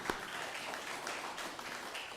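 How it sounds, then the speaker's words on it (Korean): A church congregation at a New Year's stewardship Sunday service gives brief, soft applause, a quiet, even patter of clapping that sounds somewhat distant. "우리 두 분께 박수로 한번 감사의 박수합니다."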